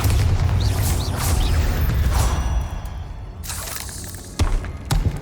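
Booming magical blasts from a Bombarda explosion spell in Hogwarts Legacy, with dense low rumble for several seconds before sharper pops near the end, loud and close.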